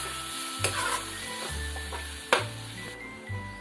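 Spice-coated chicken pieces, rubbed with salt, turmeric and chili, hitting a hot pan, with a close sizzle that rises in short bursts, sharp clanks of a spoon against the vessel, and a steady hum underneath.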